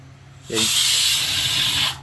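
A pressure cooker lets out one loud, close burst of hissing steam that lasts over a second before cutting off.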